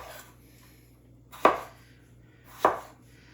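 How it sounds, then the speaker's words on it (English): A knife cuts Yukon Gold potatoes into small pieces for roasting, landing two sharp, close chops on a cutting board about a second apart, with quiet pauses between them. "I'm going to cut those in a way that I know that they're going to roast up in the same amount of time"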